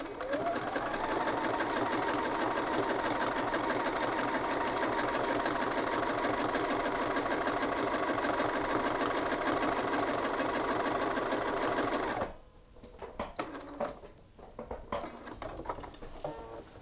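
A sewing machine stitching a shirt seam runs at a steady fast rhythmic clatter for about twelve seconds, then stops, leaving a few quiet handling clicks and knocks.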